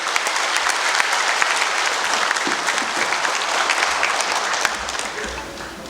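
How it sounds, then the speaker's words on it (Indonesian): Audience applause at a ceremony, a broad steady wash of clapping from a large crowd that carries on throughout and thins slightly toward the end. "Saya mohon kepada seluruh yang hadir untuk memberikan aplaus yang paling meriah kepada tiga tokoh ini."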